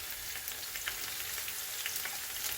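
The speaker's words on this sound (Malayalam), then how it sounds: "നന്നായി മുരിഞ്ഞ് വരണം വെളുത്തുള്ളി, ഇഞ്ചി എല്ലാം" Garlic and ginger frying in hot oil for beef pickle, a steady soft crackling sizzle with scattered pops throughout, close and alone.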